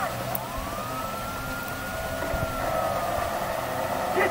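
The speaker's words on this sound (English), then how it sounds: "Hear that? Siren!" A police siren wails steadily in Grand Theft Auto V gameplay, a sustained rising and falling tone over background game noise.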